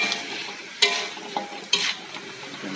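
Potato and eggplant pieces being stirred in a frying pan, a steady sizzle broken by a few scraping strokes and light clinks of the utensil against the pan.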